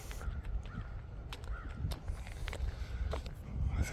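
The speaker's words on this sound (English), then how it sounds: "I hear them crows." Several crows caw harshly, one on a power line, some near and some farther off, over a low rumbling outdoor background with a few scuffing steps.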